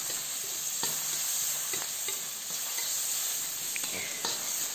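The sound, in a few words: tomatoes sizzling while frying in a pan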